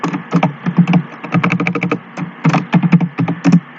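Typing on a computer keyboard to enter a page title: rapid bursts of crisp, close key clicks in irregular clusters with short pauses between, alone without talk.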